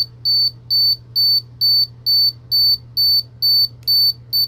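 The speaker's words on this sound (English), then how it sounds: "that's the self-timer" Film camera self-timer from a Ricoh or Konica body, beeping in a steady run of about nine short, even electronic pips, close and clear over a low background hum.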